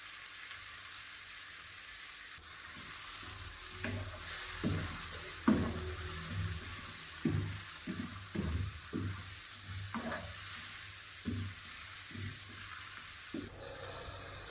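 Crushed garlic frying in a pan, a steady soft sizzle with repeated scraping knocks of a spoon or spatula stirring at an uneven rhythm, close and moderately quiet.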